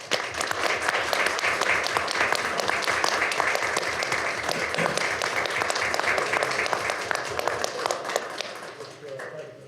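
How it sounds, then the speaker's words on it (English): A council meeting audience claps for a retiring couple, dense rhythmic applause that holds steady for most of the stretch and then thins and fades out near the end. "Join me in a round of applause for Terry and Debbie Dobson."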